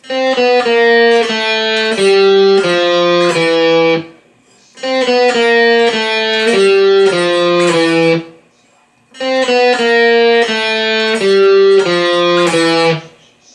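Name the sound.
cigar box guitar riff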